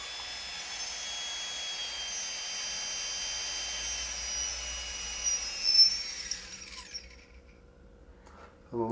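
A GARTT ML2212S 920KV brushless motor, held on a fingertip at a workbench, spins with a steady high-pitched whine, then winds down and fades to near silence.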